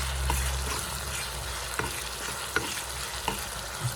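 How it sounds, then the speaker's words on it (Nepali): Chicken thukpa base cooking with ginger garlic paste and garam masala: a constant, close sizzle and fry in the pan, with several scrapes of a spoon stirring through it. No talking. "अनि त्यसमा गरम मसला हालेर फेरि यसलाई मजाले पकाउनुपर्छ"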